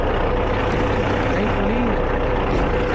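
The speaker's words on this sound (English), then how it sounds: "Alright guys, so we got the truck started." A truck engine runs steadily after starting, a loud, low, continuous rumble close by with faint voices over it.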